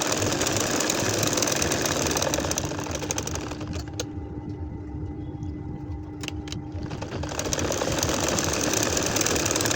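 A domestic sewing machine stitching a starflower nakshi kantha quilt, running in a fast steady mechanical whir that eases off briefly in the middle with a few clicks before picking back up.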